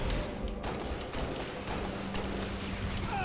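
Gunfire from the Halo: Reach video game during a Pillar of Autumn firefight, a dense continuous crackle of shots layered over a steady low hum, with a few sharper bursts standing out.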